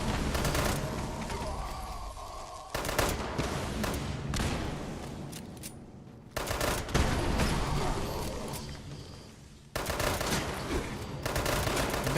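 Fallout 76 gameplay with a 10mm pistol firing and explosions going off: dense, loud bursts of rapid gunfire and booms in long runs, broken by brief drops in intensity.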